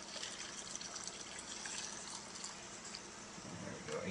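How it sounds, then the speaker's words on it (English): Brine poured from a container over garlic and dill packed in a pickling jar, a steady, close splashing and gushing of liquid that runs continuously throughout. "Now I'm just pouring the brine over everything."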